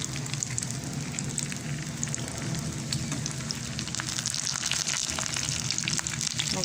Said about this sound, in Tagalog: melt na yung cheese kaya tumunog na naman mag-splatter ng mantika